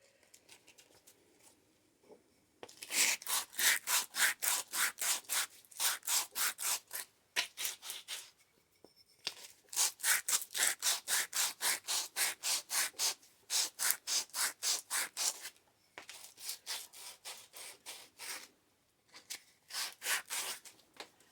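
Hand sanding a wooden stick, rapid rhythmic back-and-forth rasping strokes in long bursts separated by short pauses, close and moderately loud with no talking.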